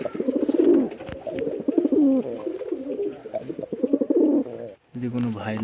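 Pigeons coo in soft repeated throaty calls close by, with occasional higher chirps, while someone talks over them almost throughout.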